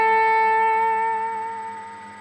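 A single sustained guitar note with gentle vibrato wavering slightly in pitch, ringing clearly and slowly fading out.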